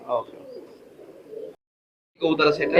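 Imported-bloodline high flying pigeons coo in short, close bursts, a soft murmur breaking off into silence before a louder flurry of calls resumes.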